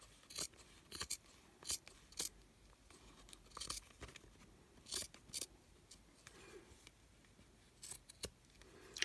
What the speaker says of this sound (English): flip it over and trim it down to the size of the